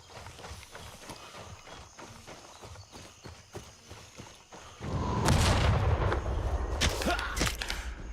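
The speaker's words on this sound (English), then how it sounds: "Oh, now they're shooting at me." Enemy gunfire erupts in a video game firefight, a dense burst of shots breaking out partway through after a stretch of quieter rhythmic thuds, fairly loud and close.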